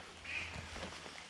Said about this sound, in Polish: Ale fajnie, kaczkę słyszałem.